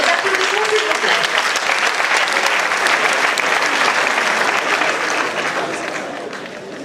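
Sustained audience applause at a university debate final in the faculty of letters and human sciences, steady and dense before tapering off toward the end, with a faint voice briefly audible early on.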